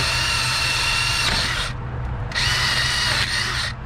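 A power drill whirs loudly and steadily, dipping briefly in the middle before spinning back up, with a high whine over a low motor hum.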